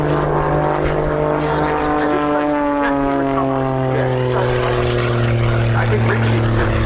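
Loud propeller aerobatic aeroplane engine at an air show display at RAF Cosford, its drone shifting in pitch as the aircraft climbs vertically and spins down, with a commentator talking over it throughout.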